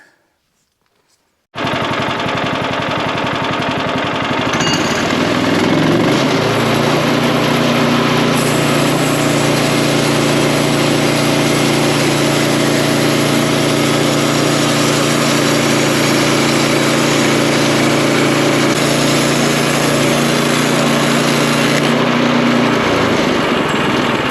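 Sawmill blade making a one-inch cut through a log, a loud steady engine drone starting abruptly after a brief silence, with the blade pitch shifting slightly as it cuts, then easing at the end.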